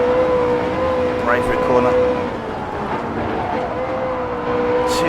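Ferrari F430 Scuderia engine in Gran Turismo 7 at the Nürburgring, a steady high droning note climbing slightly as the car accelerates uphill, loud and continuous beneath someone talking.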